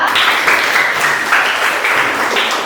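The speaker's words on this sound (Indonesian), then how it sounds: "mari kita tepuk tangan untuk kita semua" Loud, sustained applause from a group, steady clapping filling the whole moment without a break.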